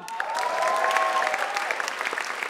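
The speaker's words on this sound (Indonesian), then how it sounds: "tepuk tangan dong" An audience at an evening event breaks into sustained applause, a full, even roar of many hands clapping, with a faint tonal sound drifting through the first half.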